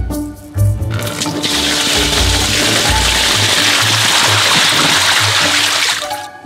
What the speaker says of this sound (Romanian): eu torn apa